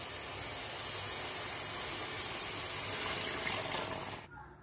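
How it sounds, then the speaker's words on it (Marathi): Water poured into fried masala in a pan for fish curry, a loud steady hissing gush that runs for about four seconds and then stops abruptly, close, with no talk. "आता आपण ह्यामध्ये पाणी घालून घ्यायचे आहे."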